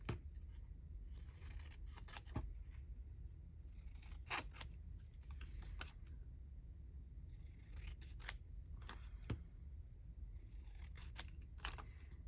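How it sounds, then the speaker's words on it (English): Scissors snip the corners of paper in a quiet room, a series of crisp, close cuts coming in small clusters with gaps between, faint overall and with no talking. "Might snip the corners."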